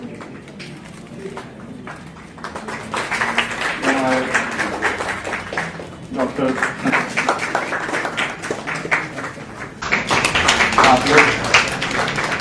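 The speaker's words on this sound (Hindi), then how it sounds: "आप लोग ताली बजाकर अपनी बेदारी का सबूत दें और हमारे मेहमान की इज्जत अफजाई" Audience clapping at an Urdu talent award ceremony, a dense, steady patter of many hands that builds and continues under a host's voice addressing the crowd.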